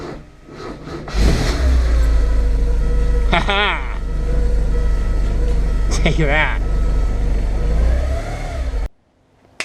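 Porsche 944 engine running after a battery jump, a loud close idle with two sharp revs rising and falling, a voice talking over it before the engine cuts off.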